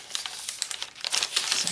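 Lined paper in a handmade vintage sewing journal is handled and crinkled, a short run of close, crisp rustling and crackling bursts.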